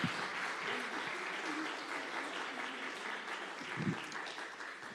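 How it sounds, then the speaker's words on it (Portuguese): Church congregation clapping in praise during a worship service, a steady sustained wash of applause at moderate distance, with faint voices mixed in. "As palmas louvam o Senhor."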